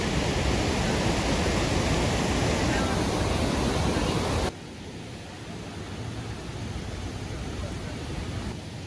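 A river in high discharge rushes loudly near Dupcheshwor Mahadev Temple in Nuwakot, Nepal, a dense continuous roar that drops abruptly to a quieter but still steady rush partway through.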